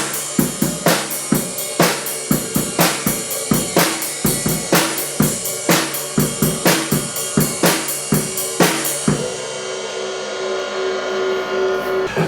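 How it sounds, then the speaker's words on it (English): Drum kit played in a steady rhythmic beat, regular hits with kick and cymbal-like crashes repeating for about nine seconds before stopping, heard clearly without any speech. "I don't know if you can hear the drumming behind me"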